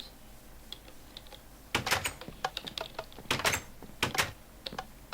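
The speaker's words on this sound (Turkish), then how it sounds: "Tık tık tık tık tık tık otomatik kapı sesi" An automatic door in a farming video game opens with a rapid run of dry mechanical ticks and clicks. The clicks come in irregular clusters for a few seconds, fairly close and with no talk over them.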